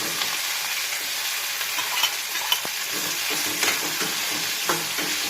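Okra frying in hot oil with popped mustard seeds and curry leaves for sambar: a dense, continuous close sizzle with occasional small clicks and stirring scrapes, no voices.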